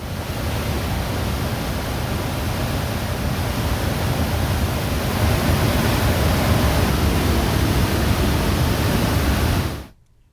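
Floodwater roars out through six opened gates of a dam, releasing over thirty thousand cusecs downstream into the Manjira river; a loud, steady rushing torrent fills the scene without pause before cutting off abruptly at the end.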